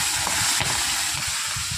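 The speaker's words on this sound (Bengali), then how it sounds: "খুব ফাটছে, মানে পেটের ডিম আছে তো এই জন্য" Fish full of roe fry in hot oil with a loud continuous sizzle, broken by repeated low pops and spatters as the eggs burst, close up.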